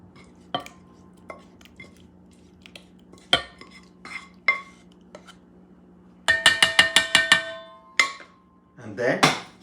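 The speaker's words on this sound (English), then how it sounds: "I'm going to bring my little sauce and I'm going to add it. I'm going to mix things up." Pasta being mixed with a homemade sauce in a container, with scattered utensil clinks and scrapes, then a quick burst of rapid metallic clatters and a final scraping swirl, with no voices.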